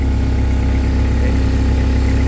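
A Shindaiwa DG250MI 25 kVA diesel engine generator running steadily, a loud, close, continuous low rumble and mechanical drone with no pauses and no talking.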